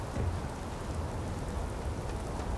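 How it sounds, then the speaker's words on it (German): Steady rain in the video game Starfield hisses and patters continuously, dense and fairly close, with no voices over it. "Doch, es regnet."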